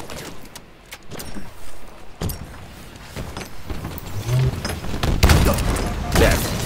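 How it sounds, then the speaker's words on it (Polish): In the Halo Infinite video game, a grenade goes off during a multiplayer match with a heavy boom among other thuds and blasts from gunfire, all loud and close, with a player talking faintly. "A, zabił mnie granatem."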